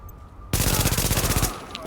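Rapid automatic gunfire from a gun in the video game The Division, a loud sustained burst of about a second that starts abruptly after a quiet moment and cuts off, with no talk over it.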